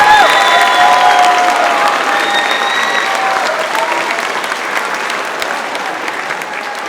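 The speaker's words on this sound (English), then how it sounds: "Let's please have a round of applause for our award winners." An audience at an eighth-grade promotion ceremony gives a round of applause for award winners, loud sustained clapping filling the hall with a few cheers and whistles over it, slowly easing off toward the end.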